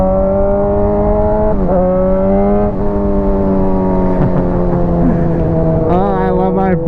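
A 600cc motorcycle engine revs loud and close, holding a steady drone with brief dips and a rising blip near the end, running alone without talk.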